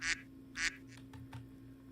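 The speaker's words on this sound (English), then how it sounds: "Quacking." Two sharp, nasal duck quacks ring out from a soundboard in quick succession, then fainter rustles and murmurs follow over a low, steady background hum.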